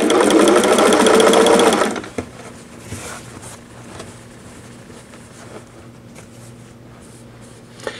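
A Singer 401A sewing machine stitches fabric with a ruffler foot attached, a loud dense mechanical whir for about two seconds that then stops, leaving a low background hum and faint handling sounds.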